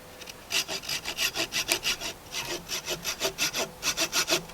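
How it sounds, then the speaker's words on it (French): A hand saw cuts through a wooden joint in quick, regular back-and-forth strokes, close and fairly loud, with a brief pause partway through. "prendre une scie"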